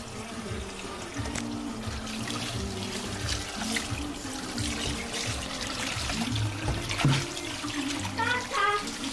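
Tap water runs steadily while a fish is washed by hand at a kitchen sink, a continuous splashing stream with occasional louder gushes, with a person speaking faintly beneath it.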